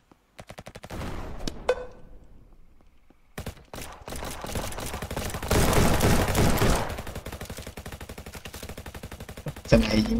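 Gunfire in the Roblox game RF Legacy: rapid automatic bursts and repeated shots, loud and close, rattling almost continuously with brief pauses between volleys.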